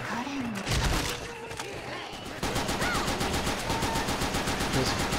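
Rapid automatic fire from an AN-94 rifle in the modded zombie shooter Left 4 Dead 2 rattles in sustained bursts, growing steadier and louder midway, with a tonal game sound mixed in.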